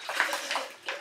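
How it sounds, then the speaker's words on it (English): Water is poured into a protein shaker bottle in a short, soft, splashing trickle, heard close and fairly quiet. "Get some water in there."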